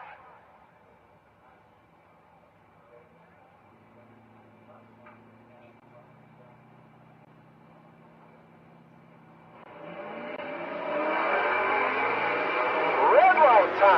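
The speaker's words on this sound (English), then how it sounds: "Larry Armstrong, the hot rod in the left lane, dial 1317. The right lane is Jeffrey Burst. Burst the Camaro, dial 1105." Engines of a hot rod and a Camaro at a drag strip rise into a loud roar during a race week finals, building from quiet ambient noise to a sustained revving blast in the final seconds.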